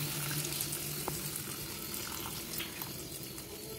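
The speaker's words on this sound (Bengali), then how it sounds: "এখানে এখানে আমি হালকা গরম জল দিয়ে দিচ্ছি।" Lukewarm water being poured into a pot of chicken ghugni, a steady close splashing and gurgling flow that lasts throughout without pause.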